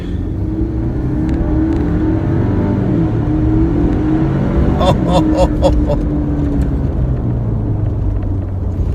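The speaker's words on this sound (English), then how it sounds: "The sound of that engine is just phenomenal." A loud Ford Ranger Wildtrak pickup engine, rated 222 kW, rumbles and revs steadily throughout, with a few sharp ticking bursts midway; a voice talks faintly under the engine noise.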